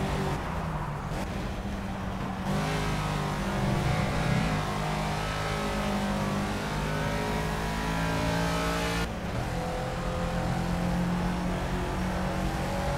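Race car engine in the Project Cars racing game, a steady high-revving drone climbing and holding through the gears, loud and continuous, with a brief drop in pitch around a shift.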